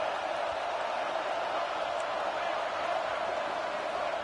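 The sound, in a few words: stadium crowd noise in a college football video game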